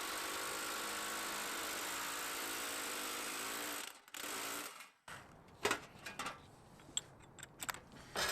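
A Milwaukee M12 cordless power hammer runs steadily and loudly for about four seconds, then cuts out. After that come scattered sharp impacts and rattles, with brief bursts of hammering.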